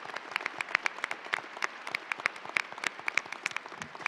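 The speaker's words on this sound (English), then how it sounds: "Let's give each one of these faculty and administrators a hearty applause." An audience at a university white coat ceremony claps for faculty and administrators, giving a steady patter of many hands that carries evenly throughout, moderately distant in a large hall.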